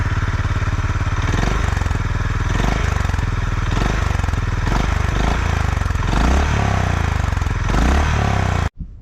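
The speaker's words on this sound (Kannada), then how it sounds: "ಇದು ಐಡಲ್ ಸೌಂಡು, ಸ್ವಲ್ಪ ರೆವ್ ಮಾಡ್ತೀನಿ ಲೈಟಾಗಿ." A Honda CB350RS motorcycle engine idles with a steady low thump close by, then takes several light, short revs that rise and settle back to idle, ending abruptly.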